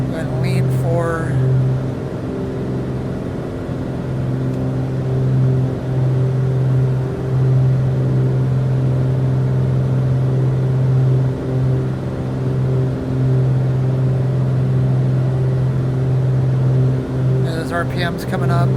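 Piston engines of a Beechcraft Piston Duke twin drone steadily through a run-up, a strong harmonic hum that holds fairly even as RPM comes up, loud and close throughout.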